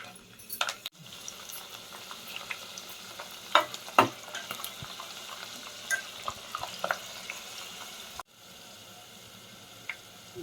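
Garlic and curry leaves sizzle and fry in hot oil in a pan for a tomato pickle tempering, a steady crackling hiss with a few stirring clinks, close and moderately quiet.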